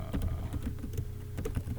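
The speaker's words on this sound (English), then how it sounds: "Let's just type in the same thing" Rapid, uneven clicks of typing on a computer keyboard while entering HTML code, close and steady for a couple of seconds with no voices.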